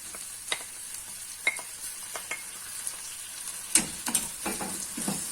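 Onions, peppers and tomatoes sauté in a pan for Egyptian eggah, a soft continuous sizzle with intermittent spoon scrapes and light clinks of utensil on metal.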